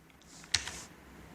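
Brief keyboard typing while entering a spreadsheet formula in Excel, a few quiet key clicks with one sharper tap in the middle, alone with no voice.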